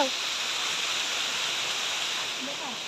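Steady broadband rush of falling water from the Deojharan waterfall near Sambalpur, loud and constant, with faint voices barely audible beneath the roar.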